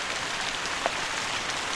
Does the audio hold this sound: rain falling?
yes